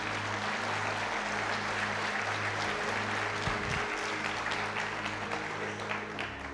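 Congregation applauding during a church sermon, a steady broad patter of clapping held at moderate distance, continuous throughout, with a low hum and a brief thump underneath.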